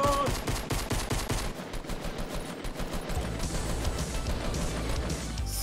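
Rapid automatic gunfire in the Fortnite video game, a dense run of loud, close shots in quick succession, followed by continuing noisy game action.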